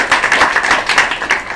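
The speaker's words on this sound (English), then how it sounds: "Clap your hands if you are." An audience at a live comedy show claps their hands, a brief burst of fairly loud, rapid clapping with no talk over it.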